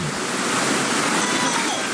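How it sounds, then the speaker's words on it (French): The Ati falls roar as a loud, steady rush of falling water, a dense broadband wash with no breaks and no voices. "Sans se rendre compte, on est en présence des cascades d'Ati."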